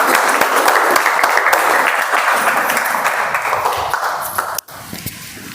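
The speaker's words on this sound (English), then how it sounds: "Let's have a round of applause, please." Steady audience applause fills a Toastmasters meeting room, dense and even clapping that thins toward the end and is cut by a sharp knock before quieter room sound.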